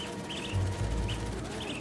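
A white-throated bee-eater bird calling in a video game: short, faint chirps repeating at a loose rhythm over a low, soft background hum, with no talk.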